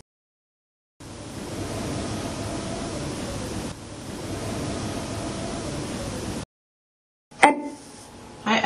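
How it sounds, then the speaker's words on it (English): Wind blowing in a steady, hissing rush close to the microphone, in two long gusty stretches separated by a brief break. After a pause, a sharper buffeting burst follows. "The winds went up. Yeah, it's windy."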